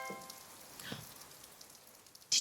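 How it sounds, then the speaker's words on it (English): Soft rain pattering on a surface, faint scattered drops under a quiet background, with one sharper louder tap at the end. "I think it's the sound of rain"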